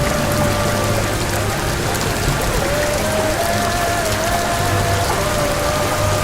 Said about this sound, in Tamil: கனமழை காரணமா சாலையில பாத்தீங்கன்னா மழை நீர் குளம் போல தேங்கி இருக்கு.